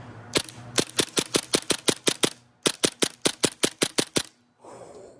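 Airsoft MP9 fed from a drum magazine fires about twenty sharp semi-automatic shots in two quick, steady bursts with a short pause between, loud and close, then falls quiet.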